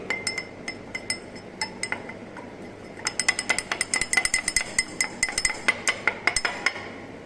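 A spoon or rod clinks against glassware while a honey sample solution is stirred, sparse taps at first, then a quick run of sharp, close clinks.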